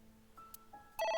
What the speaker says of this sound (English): It's ringing again.